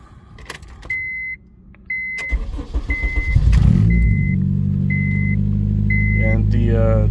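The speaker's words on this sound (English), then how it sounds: "this is cold start" A car engine cold-starts after several repeated electronic chimes, with the starter cranking before the engine catches and settles into a loud, steady, low idle. A voice is heard over the chimes early on.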